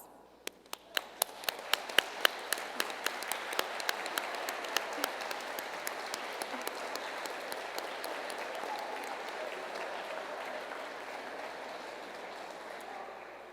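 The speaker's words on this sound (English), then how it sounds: "We would like to ask the judges in attendance to please stand so we can give them a round of applause." A seated audience at a national newspaper journalism awards ceremony breaks into applause, starting with a few sharp individual claps that quickly swell into steady, dense clapping from the whole room, holding evenly to the end.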